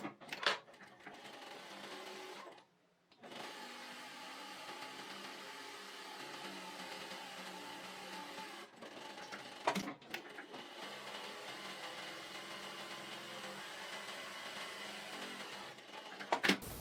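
A sewing machine fitted with a guide presser foot stitches a bias strip of fabric for a women's shorts waistband, running as a steady close mechanical whir, pausing briefly once before continuing with a few clicks.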